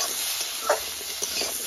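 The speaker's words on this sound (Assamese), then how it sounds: "এতিয়া কাটি লোৱা আলুখিনি বহাই দিম ধুনীয়াকৈ ভাজি লৈছোঁ" Cut potatoes with a little turmeric fry in oil in a kadai, making a steady soft sizzle broken by a few brief scraping stirs, close and fairly quiet.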